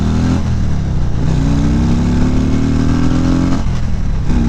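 The engine of a 2018 Harley-Davidson CVO Limited motorcycle accelerates hard as the throttle opens, a loud close rumble rising steadily in pitch and then easing off near the end.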